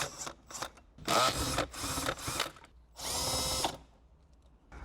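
Power drill driving out 10mm bolts from the dashboard of a 2024 Subaru Outback during an amplifier install, heard in three or four close, loud whirring bursts separated by short pauses, with no talking.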